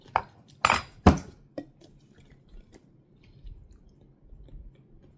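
A few wet chewing and clinking sounds as chunky salad is tasted, three sharper bites early, then soft faint mouth noises.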